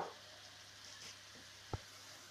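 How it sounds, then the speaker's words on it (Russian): Soft, steady sizzle of purslane and onion frying in a pan, faint and continuous with a single sharp click near the end. "Портулак с луком обжарили еще где-то примерно минутку"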